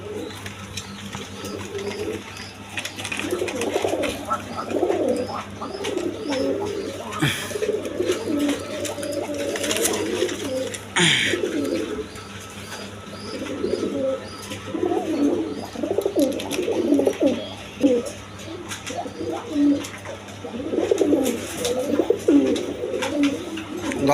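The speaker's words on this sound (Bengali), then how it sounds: "একদম বিগ সাইজের কবুতর।" Large pigeons, including a khaki pair, coo in soft, repeated low warbles at a farm selling eggs and chicks, a close and continuous chorus with occasional clatter in the background and no talking.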